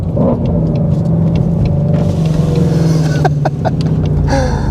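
A Ford GT350's V8 rumbles low and loud, then blips sharply as it rev-matches on a downshift, the revs rising in quick bursts before settling back to a throaty idle.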